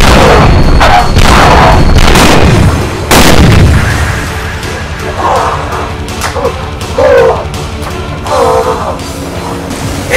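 Artillery fire effect in a Yu-Gi-Oh live-action series: loud booming blasts with heavy low rumble in the first few seconds, then quieter trailing rumble and scattered bursts.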